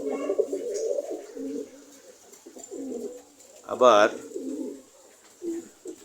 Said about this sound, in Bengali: ওই যে উপরে যেই কবুতরগুলো আপনারা দেখছেন, এখানেও দেশি জাতের কবুতরগুলো ওখানে আছে।